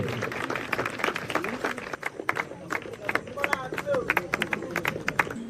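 Scattered clapping from an audience at a football tournament prize ceremony as the first runner-up prize is handed over. The sharp claps are uneven and moderately loud against crowd chatter.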